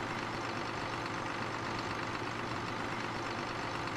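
A tractor engine idles in Farming Simulator 17 during public works roadside jobs, giving a steady low rumble that stays even and unbroken throughout, moderately loud with no voices over it.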